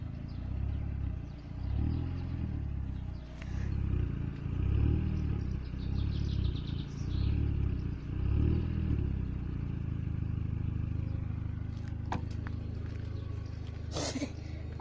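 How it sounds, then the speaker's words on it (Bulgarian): An Audi TT engine idles nearby with a low, steady rumble, rising in a few brief revs early on before settling back, while some faint clatter and small noises are heard nearby. "Я дай малко газ да чуем звука."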